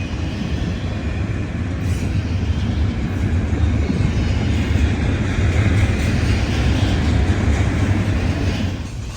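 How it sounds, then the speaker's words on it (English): New Jersey-bound intermodal freight train 212, loaded with UPS piggyback trailers and containers, rolls past in Greenville, South Carolina, with a loud, steady rumble of wheels and cars filling the whole stretch, close and unbroken. "This is New Jersey-bound intermodal number 212, tasked with bringing southern goods up to the bustling Northeast market."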